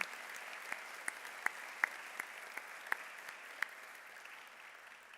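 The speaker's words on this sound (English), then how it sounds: "Let's give them a big applause for what they've done" Faint applause at a Memphis fire services graduation ceremony: a soft, distant wash of clapping with a few sharper individual claps standing out, tapering toward the end.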